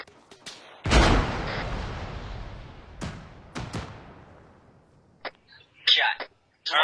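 A rocket launcher fired at vehicles in a Halo-style video game: a loud boom followed by a long rumbling decay, then a few sharper blasts and short thuds, with brief bursts of radio chatter near the end.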